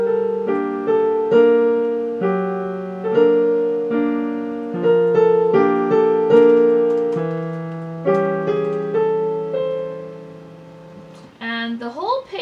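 Solo piano plays the closing four measures of a jazz piece, with clear, sustained chords struck in a steady rhythm and each one ringing and decaying, then a voice briefly starts talking at the very end.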